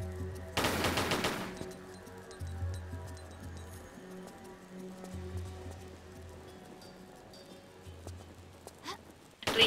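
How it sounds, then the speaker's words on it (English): Pistols fire in a Tomb Raider custom level, a quick rattling burst of shots early on, then quiet ambient game sound with low hums and a faint click near the end. "it is possible to jump up and shoot the gem with the pistols."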